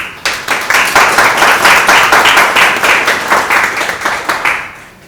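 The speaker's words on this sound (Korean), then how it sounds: "박수로 환영하여 주시고." Audience applause welcoming a panelist, a former three-term lawmaker, at a round-table discussion: steady, dense clapping from a sizable crowd, close and loud, fading near the end.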